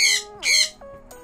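A loud pet bird gives two harsh, piercing squawks close to the listener, followed by a few shorter, softer calls, all in about a second.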